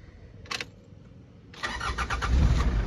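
A Mitsubishi Pajero engine is started with the air conditioning switched off; a brief starter burst is followed a second later by the starter cranking and the engine catching into a loud, rising idle rumble, close up with no talk.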